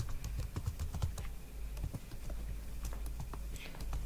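Fingers type code on a computer keyboard while programming an LCD distance-meter robotics project, producing a quick, steady stream of close, crisp key clicks throughout with a faint low hum underneath.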